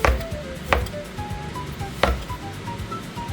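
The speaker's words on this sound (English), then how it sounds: "I julienne first" A knife julienning slices of vegetarian soy ham on a cutting board, giving a few crisp, separate chops spaced irregularly, close and clear, with faint kitchen background.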